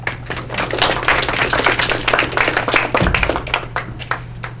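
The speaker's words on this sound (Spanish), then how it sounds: "le doy la bienvenida, un aplauso y la vamos a escuchar" Hands clapping in applause welcome a female lecturer at a conference on Germany in the European Union, a steady dense patter of claps at moderate loudness with a low electrical hum underneath.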